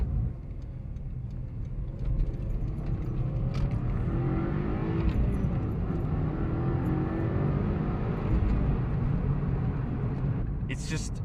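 A Nissan Skyline GT-R's turbocharged engine drives along a road as a steady, loud, broadband drone that holds for the whole stretch, heard from close by inside the car.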